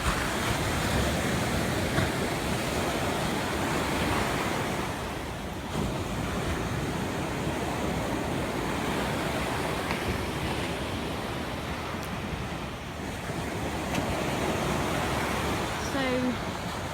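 Sea waves washing onto the coast in Portugal, a steady broadband roar of surf that holds at an even loudness throughout with slight swells, mixed with wind noise on the microphone.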